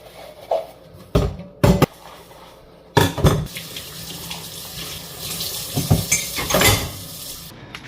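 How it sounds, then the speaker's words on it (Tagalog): Coffee cups are washed under a running kitchen tap late at night: a steady stream of water with sharp clinks and knocks of ceramic against the sink, louder bursts of splashing as the cups are rinsed, and no talking. "ng mga pinagkapihan po namin ni Mahal Arena, syempre hugasan natin yan."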